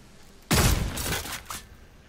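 A loud burst of rapid gunfire erupts in the shooter game Redfall and runs for about a second, followed by a fainter second shot, with no talk.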